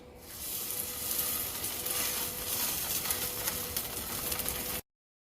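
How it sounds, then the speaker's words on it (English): The scored fat side of a sous vide, dry-aged picanha sears in a hot pan with a loud, steady, close sizzle and crackle that holds for nearly five seconds before cutting off abruptly. "we're gonna sear fat first"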